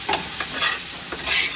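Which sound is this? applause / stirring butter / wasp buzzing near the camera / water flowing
stirring butter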